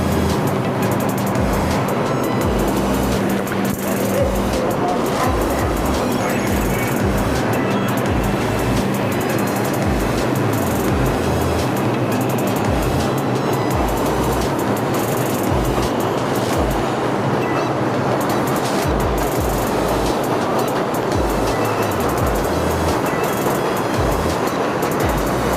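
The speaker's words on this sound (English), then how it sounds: "There's a 2 train coming." A New York subway 2 train pulls into Atlantic Avenue–Barclays Center station, filling the space with a loud, unbroken roar and rumble that holds for the whole stretch.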